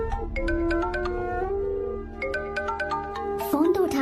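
A phone rings with a melodic, repeating ringtone in a Hindi-dubbed film scene. The chiming notes play in two phrases, and a brief vocal sound and rustle come near the end.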